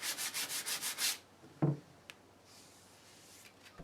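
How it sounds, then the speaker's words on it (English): Sandpaper rubs back and forth on a wooden chair to take off spilled glue, about eight quick rhythmic strokes close up, then a knock and a few small taps in near silence. "We'll need to remove the spilled glue next, so it's back to sanding once again."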